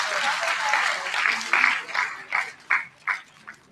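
An eighth grade promotion ceremony audience claps for an honored staff member, with a full burst of applause thinning into a few scattered louder claps before fading out.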